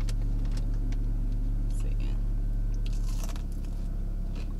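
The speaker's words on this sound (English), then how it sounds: "These have a really good crunch." Crunchy McDonald's spicy chicken nuggets bitten close to the mic, a few crisp crunches and soft chewing sounds over a low steady hum, with people talking quietly in between.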